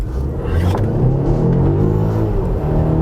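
A 2018 Volvo XC60 T8 supercharged and turbocharged plug-in hybrid accelerates hard, its engine building into a steady, loud rumbling roar heard from inside the cabin with no talking.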